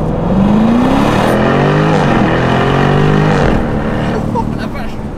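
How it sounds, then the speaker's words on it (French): A Jaguar F-Type R P575 convertible with a V8 launches from a standstill at full throttle. The engine roar climbs steeply, breaks at quick upshifts and climbs again, loud and close throughout. "J'ai juste envie de faire un petit départ arrêté, je vais mettre mon pied au plancher tout simplement."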